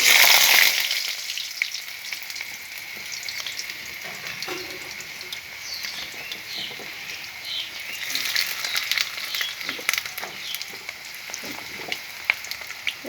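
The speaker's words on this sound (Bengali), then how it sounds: "এগুলো একটু ভাজা করে নেব।" Cut, washed potatoes fry in a pan with oil, making a steady close sizzle with scattered crackles and pops. The sizzle is loudest at the start and then settles into a continuous hiss.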